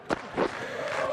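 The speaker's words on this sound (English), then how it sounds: "the crowd is really getting behind Stuart Broad" Crowd cheering in the Cricket 19 video game during an England vs Pakistan Test match, a short swell of roaring voices with a couple of louder bursts.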